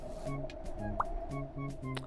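A hen in a video game clucks in short repeated bursts, a soft rhythmic series of calls over faint game background, close and moderately quiet.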